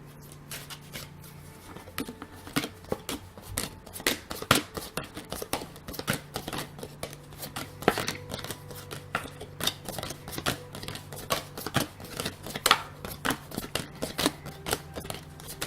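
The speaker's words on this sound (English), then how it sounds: "as I shuffle the cards" Tarot cards being shuffled by hand, a steady run of crisp riffling and soft slapping taps close by, with brief pauses between bursts and no talking.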